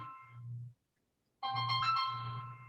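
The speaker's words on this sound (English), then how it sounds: "Oh, that's my phone ringing," A mobile phone ringtone plays in two bursts separated by a short silence, a repeating electronic melody with strong harmonic tones, moderately loud and heard alone without talk.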